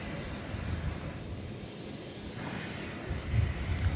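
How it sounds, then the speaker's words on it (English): An Airbus A330-300 airliner bound for Madrid takes off at night from an airport runway, a steady distant engine roar with broadband rumble that swells slightly near the end, with no voices. "It's an Airbus A330-300 off to Madrid. We'll see if we can get a gander of that taking off."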